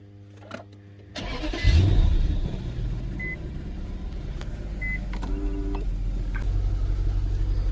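After a quiet moment the engine of an Infiniti M45 with a VK45DE engine cranks and catches, then settles into a steady, loud running rumble with a faint whine over it.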